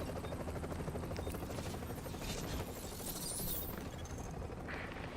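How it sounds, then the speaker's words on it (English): Helicopter in the shooter video game The Division, a steady dense whirring rotor drone that stays loud and constant, with faint mechanical clatter mixed in and no speech. "Okay, we're putting the chopper down."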